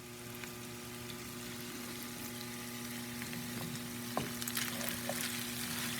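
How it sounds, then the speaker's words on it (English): Corned beef hash fries in a skillet with a steady, close sizzle that holds throughout, plus a few light clinks and scrapes near the end. "Cooking the hash."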